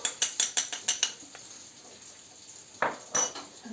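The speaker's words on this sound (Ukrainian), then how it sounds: "І розмішуємо. Ось так розмішуємо і хай він собі стоїть поки." Food-grade baking ammonia being stirred in a dish: a run of about seven quick, evenly spaced metallic spoon clinks, a pause, then two more scraping taps, close and crisp.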